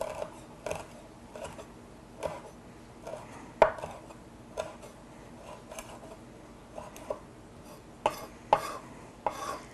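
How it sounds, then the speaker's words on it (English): A knife chops fresh thyme on a cutting board in a home kitchen, with about a dozen sharp, irregular taps spread evenly throughout. It is close and clear against a quiet room background, with no talking. "that looks like it's going to be about a teaspoon chopped, so let's give it a nice little chop here"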